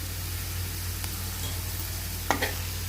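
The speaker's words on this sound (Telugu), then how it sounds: "అల్లం వెల్లుల్లిపాయ పచ్చివాసన పోయేంత వరకు కూడా కలుపుకోవాలి." Crushed ginger garlic paste fries in a pan, a steady soft sizzle with a faint utensil tap and a brief scrape-and-clink of stirring near the end.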